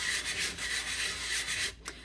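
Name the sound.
wet sanding epoxy resin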